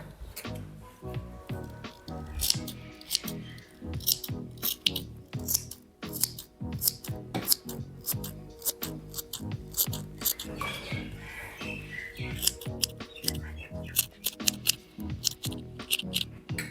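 Scissors or a cutter snipping notches into fabric while sewing a sweetheart neckline, a rapid continuous run of crisp close snips under a faint background voice.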